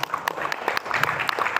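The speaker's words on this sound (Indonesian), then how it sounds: "tepuk tangan buat operatornya" Short burst of audience applause in a seminar room, scattered individual hand claps from a modest crowd, near and moderately loud, lasting under two seconds.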